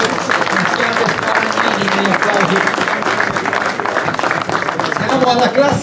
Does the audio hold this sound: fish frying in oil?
no